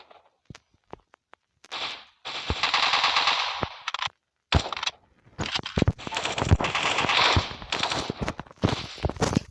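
Rapid bursts of automatic gunfire and single sharp shots from a weapon in a video game, loud and close, coming in irregular clusters separated by brief silences.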